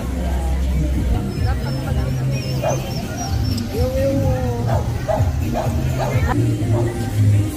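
A one-year-old Pomeranian yips and barks in short scattered bursts with a few whimpers, close by amid outdoor crowd babble and people talking at a free pet neutering event in a park.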